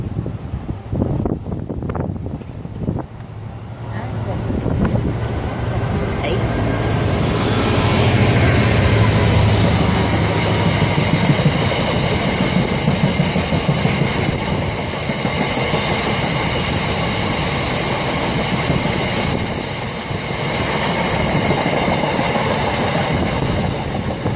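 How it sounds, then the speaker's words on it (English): Heathrow Connect Class 360 electric train arriving at Southall station on the Great Western Main Line, a loud rising rumble of wheels and motors that builds, holds steady and carries on for a long stretch, with some wind noise. "now getting ready to arrive in is a Heathrow Connect Class 360 for Hayes and Harlington"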